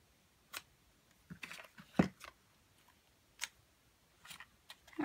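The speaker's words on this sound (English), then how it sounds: "let me just cut those at an angle" Paper pieces for a Christmas label-punch treat box and ornament snipped at an angle with scissors, giving a few quiet, sparse clicks and snips spread out with near silence between them.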